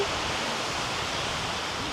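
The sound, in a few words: sea water at the beach at low tide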